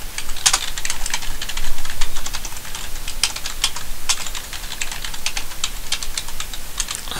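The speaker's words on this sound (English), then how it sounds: "then you can start typing in code here" Rapid, irregular clicking of keys as code is typed on a computer keyboard, close and steady throughout with small pauses and no voices.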